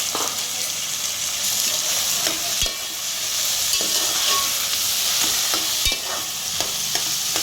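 Diced potato and cauliflower for veg pulao sizzle steadily in a pan, with a few sharp scrapes and taps of a spatula stirring through the constant frying hiss; no voices.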